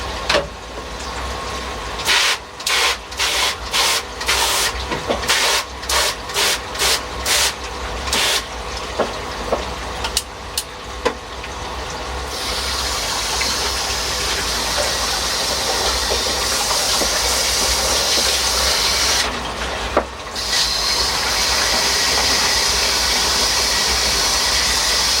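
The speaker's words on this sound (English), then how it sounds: "Just undo the tap fully, let it drain away." Water from a garden hose gushes and hisses steadily as a garden pond is washed out and drained, with sputtering bursts early on giving way to a continuous close rushing flow.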